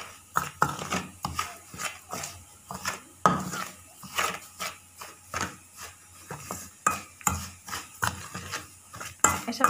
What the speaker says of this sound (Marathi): तर याला पूर्ण मिक्स करून घेते।